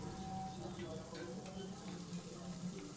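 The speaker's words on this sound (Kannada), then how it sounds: "ಇದು ಒಂದೆರಡು ನಿಮಿಷ ಫ್ರೈ ಆದರೆ ಸಾಕು" Gentle crackling sizzle of mustard seeds, cumin, green chillies, curry leaves and onion frying in a pan, steady and fairly quiet, with faint scattered pops throughout.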